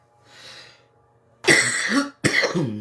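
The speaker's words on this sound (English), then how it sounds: "Just when you think the cough's gone." After a quiet breath, two loud, harsh coughs burst out close by, the second shorter and following right after the first.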